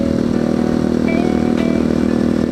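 A motorcycle cruising along a country road, its engine droning steadily and loudly up close throughout, with wind rush and no voices.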